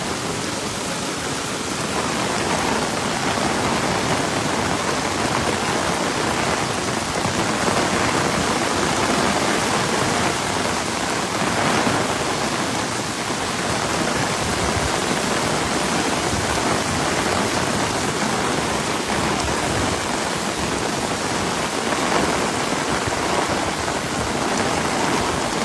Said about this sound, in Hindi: बारिश हो रही है इस वक्त कराची के मुख्तलिफ इलाकों में।